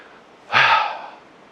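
A single forceful breath, part of a pelvic breathing exercise, bursts out sharply and fades over about a second, loud and close with no talking.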